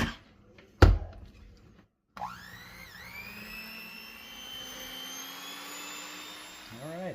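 Box cake mix batter with water, vegetable oil and three eggs whirring in an electric blender, a steady motor drone that starts abruptly after a brief knock and runs continuously, with a slight pitch dip partway through.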